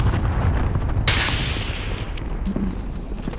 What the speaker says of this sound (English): Where the fuck are you shooting me from?